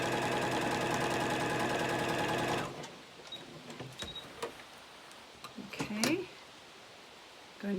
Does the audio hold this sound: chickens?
no